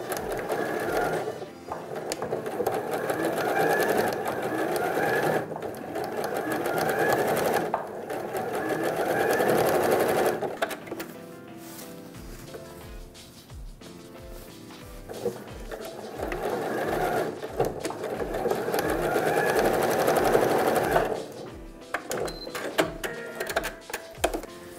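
A sewing machine stitches the lining piece of a SnapPap bread basket bag in long steady runs, pausing briefly in between, with a slower stretch of stitching midway and no talking.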